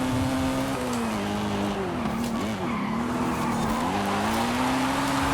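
A BMW M3 E92 or M5 E60 races in Forza Horizon 5, its engine screaming steadily near the rev limiter in fourth gear. The loud continuous drone dips briefly as the pitch wavers, with tire squeal mixed in.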